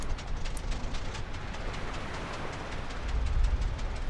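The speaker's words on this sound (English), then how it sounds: "And the APUs 1 and 2 can start." Aircraft auxiliary power units 1 and 2 starting up in Flight Simulator 2020, a continuous broadband mechanical rumble that swells slightly louder toward the end.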